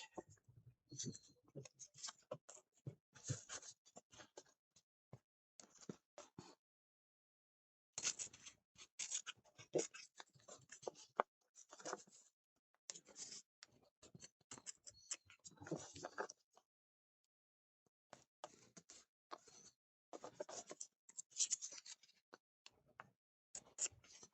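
Scissors cutting through quilt fabric in bursts of crisp snipping and rustling, close and quiet, separated by several pauses of silence.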